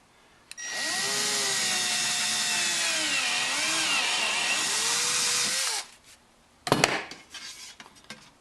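Power drill punching a hole through plastic during a Synergy Kahuna kayak modification, a high whining drill run lasting about five seconds with shifting pitch, followed by a brief clattering knock and handling noise.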